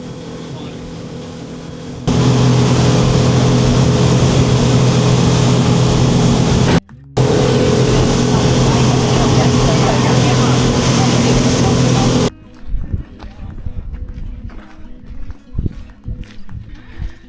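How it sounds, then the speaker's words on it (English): Loud, roaring motorboat engine with rushing water, steady and close, with a brief cut midway, then quieter rumbling and splashing at the end. "I like fast boats. It's a really fast one."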